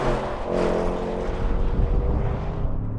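Engine of a 2021 Range Rover Sport SVR Ultimate roaring loudly and steadily for a few seconds, a deep rumbling exhaust note close by with no talk.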